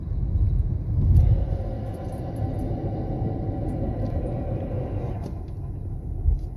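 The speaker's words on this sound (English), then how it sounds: "Grinding brakes noise." A 2017 Kia Forte with about 50,000 miles slows to a stop at a light, its worn brakes giving a low grinding rumble under steady road and engine noise that fades as the car halts.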